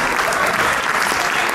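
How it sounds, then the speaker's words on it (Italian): A theatre audience applauds at the end of a puppet show, a dense, steady wash of clapping hands from many people, close and loud throughout. "un applauso a tutti"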